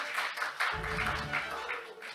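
An audience at a Korean forum presenting research on games in education claps as a lawmaker is welcomed onstage, moderate continuous applause over a low hum.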